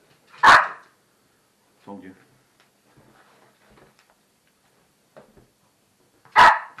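Small dog giving two sharp, loud single barks several seconds apart, one at the start and one at the end, with brief quiet speech and faint shuffling in the gap between.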